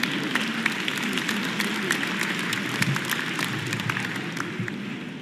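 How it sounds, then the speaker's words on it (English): Audience at a formal evening business dinner applauding the event sponsors, steady dense clapping from a large indoor crowd that holds evenly throughout. "Please give a big round of applause to our sponsors for making this evening possible"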